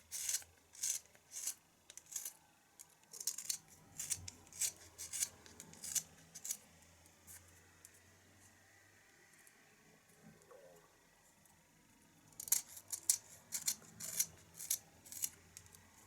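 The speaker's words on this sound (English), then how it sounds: "We don't need to remove as much wood on the underside, so the steps are a lot shorter. For step 7, carve towards the first tail tip." Quiet, close scraping cuts from a carving knife shaving the underside edges of a wooden swallow tail, short strokes repeating in steady clusters with a pause in the middle before a final run of cuts.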